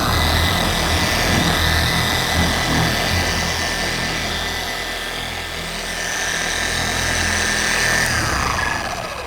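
A car polisher runs at its lowest speed setting, spreading compound over black paint with a loud, steady motor whir that holds an even pitch throughout, with no voices.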